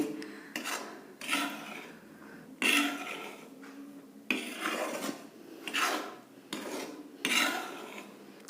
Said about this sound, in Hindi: आटे को ड्राई ही भूनना है। लगातार चलाते रहेंगे वरना आटा नीचे लग जाएगा।